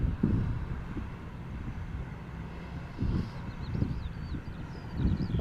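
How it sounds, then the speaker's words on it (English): Wind buffets the microphone outdoors at Amsterdam Schiphol Airport in repeated low, rumbling gusts, with a faint engine drone of a distant small airplane. "Windy,"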